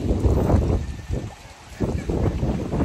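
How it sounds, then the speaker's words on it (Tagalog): Strong gusts buffet the microphone in heavy low rumbling bursts, briefly easing midway before surging again. "Oh, lakas ng hangin!"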